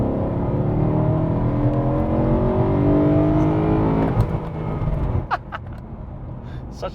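A BMW E92 M3 with the S65 V8 engine pulls hard, its revs climbing in a long rising wail inside the cabin, then cutting off abruptly into a lower settling rumble with a couple of faint clicks.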